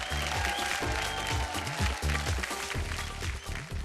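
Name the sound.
audience applause on TV show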